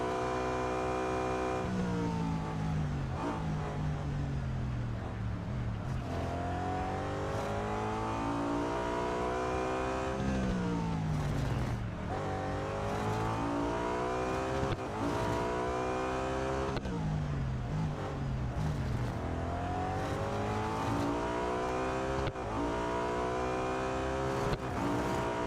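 A BMW M3 GTR racing car engine in the Real Racing 3 game roars continuously, climbing through revs, dropping on gear shifts and climbing again in repeated sweeps, loud and steady with no talk.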